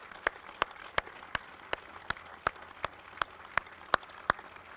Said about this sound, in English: Let's join us in a round of applause for all of our veterans.